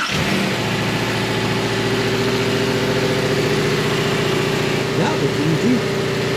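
A junkyard replacement engine in a 2018 Subaru Crosstrek fires up and settles into a steady, close, rumbling idle with a faint rhythmic pulse and a slight rise in revs near the end.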